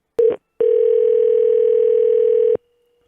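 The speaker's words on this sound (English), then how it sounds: "I'm going to call them with Google Voice as Cousin Ray" A dial tone sounds over a phone call placed through Google Voice: one short steady beep, a brief gap, then a long unbroken tone lasting about two seconds, loud and alone.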